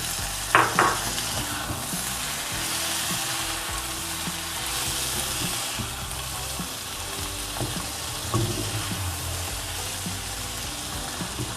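Tomatoes and okra fry in a pan with a continuous close sizzle, broken by a couple of sharp utensil clinks and scrapes near the start and again later, with no voices.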